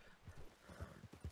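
Horse hooves in a video game clop faintly, in a few irregular soft thuds spaced across a little over a second.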